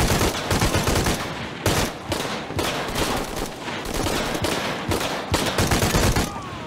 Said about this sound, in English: Gunfire, do you copy?